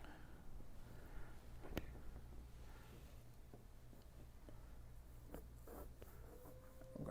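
A colored pencil scratches steadily across paper while an outline is sketched, a soft, continuous close-up rasp with a few sharper strokes and taps, heard alone without talk.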